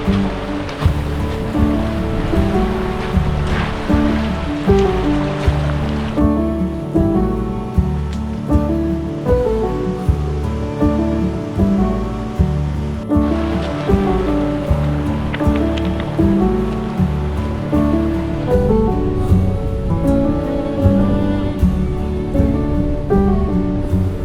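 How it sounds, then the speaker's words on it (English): A small creek in the Ruahine Ranges rushes and splashes loudly and close by, a steady churning flow of water with no voices. "Past lots of tributaries and streams that feed the river"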